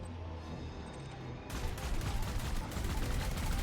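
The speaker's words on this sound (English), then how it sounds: "my ship shot those missiles down" Rapid turret fire in the Elite Dangerous space game: a ship's turret shooting down incoming missiles from Guardian Sentinels, a dense, continuous burst of shots that suddenly swells loud and stays sustained.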